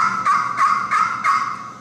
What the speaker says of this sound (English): A yelps are doing the long strokes.